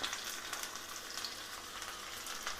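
Steady crackling sizzle of mustard seeds, shallots, dried chilli and curry leaves frying in hot coconut oil, continuous and fairly close, with no talking.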